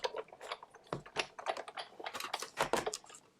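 A paper sheet fed through a hand-cranked die-cutting machine for cutting and scoring, giving a quick run of dry, crisp clicks and crunches at close range.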